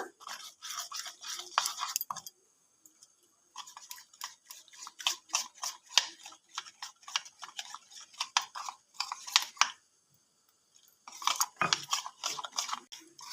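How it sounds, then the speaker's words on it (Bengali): Thin batter of flour and water whisked with a spoon in a bowl gives quick, rhythmic scraping and clicking strokes in bursts, close and fairly quiet, with two short pauses between runs of stirring. "এবার জল দিয়ে একটা ব্যাটার রেডি করে নেব পাতলা।"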